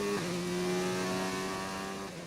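An F1 race car in the F1 2019 video game accelerates away on the medium tyre at the Australian circuit, a steady high-pitched engine whine that shifts pitch once near the start, loud and continuous with no talking.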